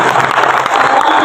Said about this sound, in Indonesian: Tepuk tangan buat ibu.